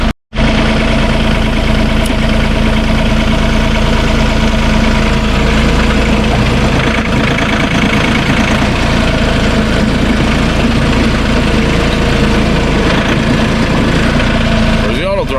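A Ditch Witch trencher engine runs on auto throttle, giving a loud, steady, close-up idling drone with a deep rumble and constant vibration, uninterrupted after a brief start.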